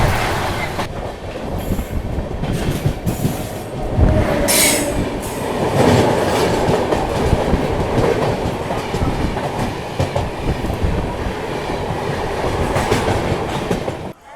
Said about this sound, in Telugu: కోయంబత్తూర్ జంక్షన్ నుండి ఎంజీఆర్ చెన్నై సెంట్రల్ వెళ్ళే శతాబ్ది ఎక్స్ప్రెస్ క్రాసింగ్